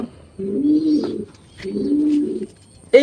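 A male racing pigeon coos twice up close in a loft, each a long, throaty rolling call lasting about a second, with a pause between them.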